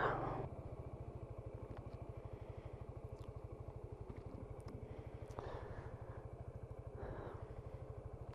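A Suzuki Burgman scooter riding along a road in Derbyshire, its engine giving a steady, low, rapid thrum with faint rattles and a few brief swells of passing noise.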